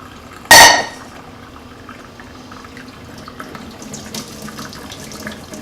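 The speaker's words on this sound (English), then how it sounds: "Pour it into the strainer." Cooked ground beef for a taco salad being poured into a strainer in a kitchen sink, opening with a loud brief splashing slosh, then a faint trickle of draining liquid and light rattles.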